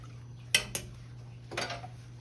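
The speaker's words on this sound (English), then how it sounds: "So we're gonna kind of mix that up in there, y'all." A utensil stirring seasoned beef and vegetables in a pot, giving a few sharp metallic clanks against the rim followed by a softer scraping stir, close and fairly quiet.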